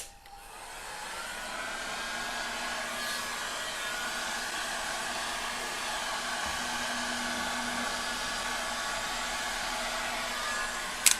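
A hair dryer blows steadily onto wet resin, a close, continuous whooshing whir that holds an even level for the full length with no voices.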